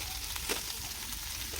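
Peas sizzling in hot oil in a pan, cooked with potatoes in a home kitchen; a steady, close hiss of frying runs without pause, with small crackles and no talk.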